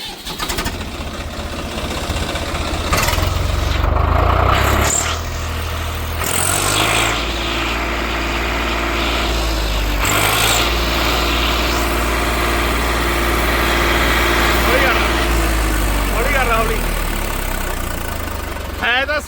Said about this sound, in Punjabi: ਸਭ ਤੋਂ ਪਹਿਲਾਂ ਆਹ ਟਰੈਕਟਰ ਦੀ ਆਵਾਜ਼ ਦੱਸਿਓ